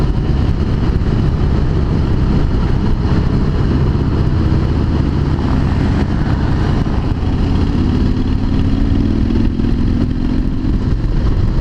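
A Harley-Davidson Heritage Softail motorcycle underway, its engine a steady, loud low rumble mixed with rushing wind, continuous throughout with a slight rise in pitch toward the end.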